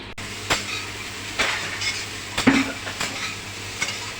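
Upma frying in a pan while boiled water is added, with a soft continuous sizzle broken by several sharp clinks and scrapes of a metal spoon against the pan, close and without talk.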